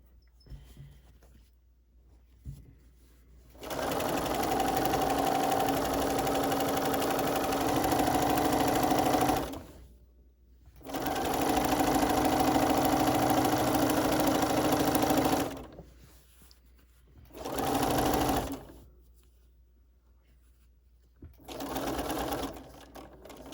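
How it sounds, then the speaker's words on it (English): A sewing machine stitches binding onto a quilt in several long, loud, steady runs, separated by short pauses and ending with a couple of shorter bursts. "I'm going to put it back under my foot and start sewing again."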